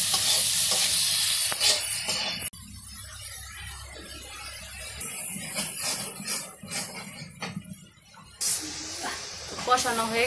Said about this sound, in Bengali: তো এই যে চিংড়ি মাছগুলা কষা গেছে